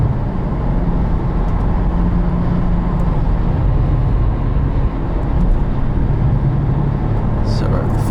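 A 2012 Porsche Turbo S Cabriolet accelerates hard in third gear, its engine a loud, steady low roar that builds evenly throughout.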